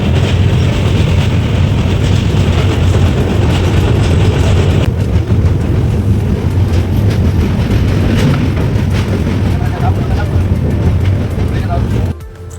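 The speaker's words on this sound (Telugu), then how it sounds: "కానీ ఆ ట్రైన్లో వెళ్తుంటే ఆ సౌండ్స్కి చాలా బాగుంది" A train rolling across the Krishna river bridge near Vijayawada, heard from inside a coach as a loud, continuous low rumble with faint rhythmic clatter, easing slightly near the end.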